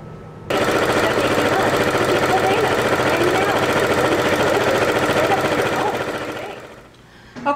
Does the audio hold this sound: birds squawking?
no